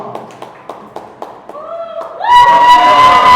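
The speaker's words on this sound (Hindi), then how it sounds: "जोरदार ताली बजाते हुए चिल्लाते हुए इस खुदावंद यीशु मसीह को धन्यवाद करें।" Church congregation at a worship service claps in sharp, separate beats, then breaks into loud shouting and cheering that swells over the last second. A sustained tone sits beneath the crowd noise.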